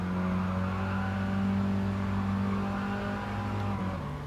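A Classic Mini's small engine accelerating hard down a straight in the GT Sport racing game, a steady, loud, buzzing drone that holds its pitch without a pause, with no talk over it.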